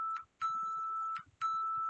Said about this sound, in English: My timer just told me that 8 minutes has passed.